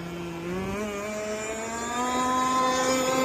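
A speedboat engine held at full throttle gives a loud, steady drone whose pitch climbs gradually as it pulls, close by with no talk.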